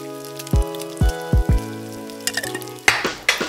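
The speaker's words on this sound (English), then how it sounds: "I am frying the bacon on the stove." Bacon frying in a pan on a stove over medium heat: a few sharp ringing knocks first, then bursts of crackling, spitting sizzle, close and fairly loud.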